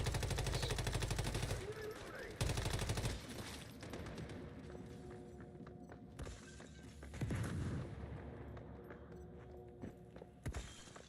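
Assault rifle fire in a shooter game, sharp loud bursts at the start and again in later bursts, mixed with clattering game effects and someone talking over it.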